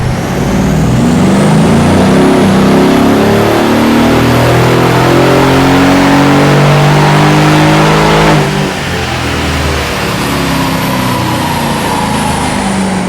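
A Brabus-tuned E63 AMG roars loudly on a dyno, its engine note climbing steadily under full load, dipping briefly near the end and then continuing strongly.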